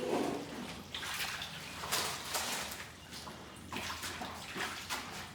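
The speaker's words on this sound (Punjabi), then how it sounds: "ਹੁਣ ਇਹਦਾ ਪਾਣੀ ਮੈਂ ਕੱਢ ਕੇ" Soapy wash water is drained from a tub after clothes are washed at home, giving a steady watery gush with repeated splashing surges, fairly close and with no voices.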